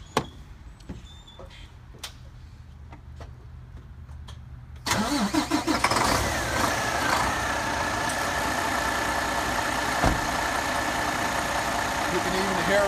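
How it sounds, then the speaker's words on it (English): A Navistar N13 SCR truck engine cranks and fires about a third of the way in after quiet clicks. It then settles into a steady, loud, close idle that runs to the end. "You can even hear me over the engine running."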